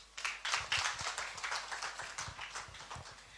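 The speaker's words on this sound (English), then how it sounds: "Please give him a better clap as he comes." An audience at a TVET centenary celebration claps as Prime Cabinet Secretary Musalia Mudavadi comes up to speak. The clapping is fairly faint, sparse and uneven, with distinct individual claps rather than a dense roar.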